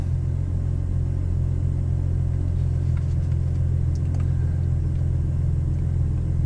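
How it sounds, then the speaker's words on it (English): Steady, low idle drone of a 2010 V6 Camaro with an aftermarket MRT exhaust, heard from inside the cabin, an even continuous rumble with no revving. "Car idles right around the mid 50s,"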